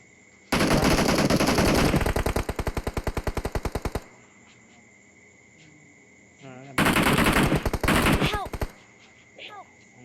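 Rapid automatic gunfire in a shooting video game: a long sustained burst followed by a second shorter volley, loud and close, with a steady game background tone and brief shouted voices between.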